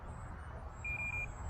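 An RC radio transmitter's timer alarm beeps a steady high tone for under half a second while a small FT Mini Scout foam plane flies over a backyard, its propeller drone and wind filling the background.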